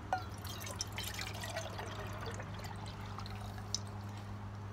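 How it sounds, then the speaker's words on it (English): Water pouring from a canteen into a small backpacking cook pot, a steady trickle with faint drips over a low constant hum, no talking. "I'm going to pour that into my little pot."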